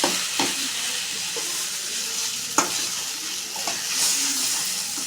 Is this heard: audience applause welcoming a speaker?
no